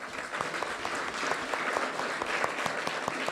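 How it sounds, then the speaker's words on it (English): Conference audience at a plenary meeting applauds the panelists before a lunch break: many hands clapping together in a steady, moderately loud patter that fills the room throughout. "I want to thank the panelists by giving them an applause."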